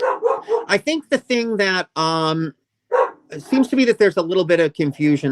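A dog barks in short bursts close by, partly mixed into a man's ongoing conversational speech.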